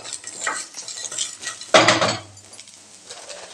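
A spoon stirs and scrapes grated coconut as it roasts in a pan for ellu thuvaiyal (sesame chutney). Soft sizzling runs under the stirring, with a sudden loud burst of scraping and clatter midway, then quieter stirring.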